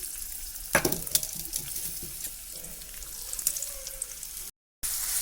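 Chopped small onions fry in coconut oil in a pan for a Kerala-style chicken curry, with a steady crackling sizzle, a sharp burst early on as they go in, then continuous hissing that cuts out briefly near the end.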